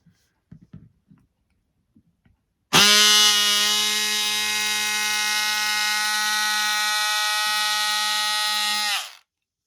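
An electric fabric cutter slicing through fleece: a few light taps, then a loud, steady, buzzing motor whine that holds for about six seconds before shutting off.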